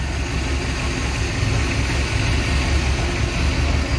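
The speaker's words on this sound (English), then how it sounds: "We fired the car up so you can hear it running." A rebuilt engine in a 1970 Holden HG Monaro runs steadily at idle, a low, even rumble heard close and continuous with no voices.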